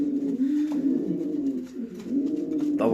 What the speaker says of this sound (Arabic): روعة الحمام نفاخ، فانتاستيكو